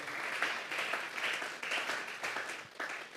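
A church congregation claps together during a Sunday service as an offering of praise, a dense, steady wash of many hands sustained through the whole stretch with rhythmic surges, fairly loud and without voices.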